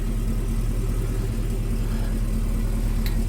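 A supercharged Chevrolet Camaro ZL1 1LE with an LT4 engine in sport mode gives a low, steady rumble and gentle rev, fairly subdued and continuous, with no voices.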